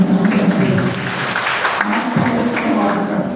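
Loud, close applause from a church congregation, a steady wash of many hands clapping throughout, with some voices mixed underneath.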